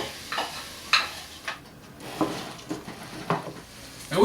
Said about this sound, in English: got our peppers and our onions sauteing away with that garlic and our olive oil